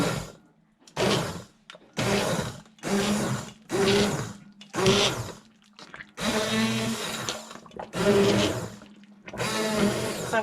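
A hand blender pureeing creamy potato soup, roaring in about nine loud bursts of a second or so each with short pauses between, the motor whine steady within each burst.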